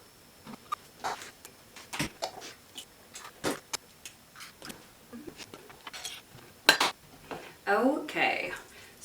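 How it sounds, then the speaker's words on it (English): A spoon scrapes and clinks against a mixing bowl as pumpkin, eggs and unmelted coconut oil are stirred for dog cupcakes, irregular knocks and scrapes close by, with a short stretch of speech. "So we can mix the pumpkin, the eggs, and the oil together."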